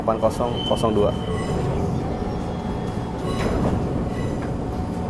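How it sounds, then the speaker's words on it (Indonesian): A local train rumbles steadily through Rangkasbitung station, Indonesia, with metallic clatter and a brief squeal, while people talk over the noise. "Ini ada juga nih kereta lokal buat ke"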